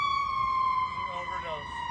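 An ambulance siren passes in the street as one steady, high wailing tone whose pitch sinks slightly, continuous and fairly close for about two seconds, with faint voices underneath.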